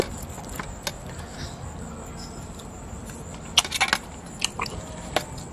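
Close, wet chewing and crunching while eating spicy Thai papaya salad with fermented fish, a few soft bites early, then a cluster of crisp crackly crunches, over low background hum.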